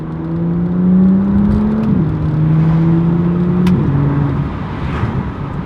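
A BMW M2 engine and exhaust revving, heard from inside the car through a slightly opened window, a loud, steady droning growl with two distinct pitch drops as it shifts, continuous throughout.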